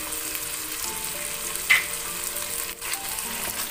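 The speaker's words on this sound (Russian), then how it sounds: "И продолжаем обжаривать." Meat and onion with a paste frying in a pan for an okra dish: a steady, close sizzle throughout, with a brief stirring scrape partway through.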